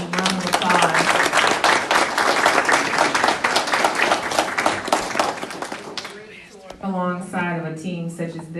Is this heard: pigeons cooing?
no